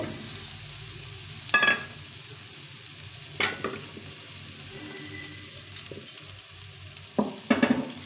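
Cauliflower cooking in a pan with ground chana dal, a low steady sizzle broken by a few sharp bursts of stirring and scraping, close and fairly quiet.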